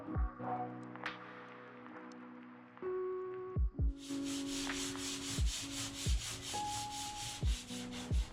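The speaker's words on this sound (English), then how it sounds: "I then used the orbital sander to go over the roof on the driver's side." An orbital sander works over the roof of a Talbot Express campervan, its motor whirring with a rhythmic buzz and repeatedly starting and stopping, its pitch dropping each time it spins down.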